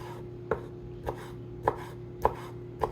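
A knife chops food into small cubes for ceviche, landing five crisp, evenly spaced strikes on a cutting board close by, with a quiet room tone between the hits and no voices.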